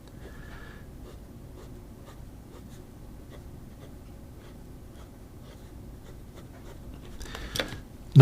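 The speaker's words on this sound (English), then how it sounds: "Fast writing, not a problem." Hongdian D6 fountain pen writing quickly on paper: soft, close scratchy strokes in a quick irregular rhythm, faint against quiet room tone, ending in a louder handling knock.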